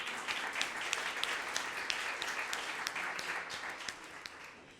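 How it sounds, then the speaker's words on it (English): Audience applause at a corporate symposium on ending homelessness, a round of steady clapping from a seated crowd, crisp individual claps standing out against a dense even wash for several seconds. "Let's give her a round of applause."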